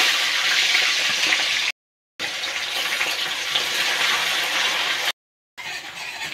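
Chopped onions tipped into hot oil in a pan for chicken biryani, a loud, bright sizzling hiss that breaks off twice in short silences before resuming, with no voices.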